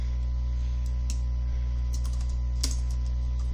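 Light clicking of fingers typing on a computer keyboard while entering team roster information, scattered soft keystrokes over a steady low electrical hum, with no one speaking.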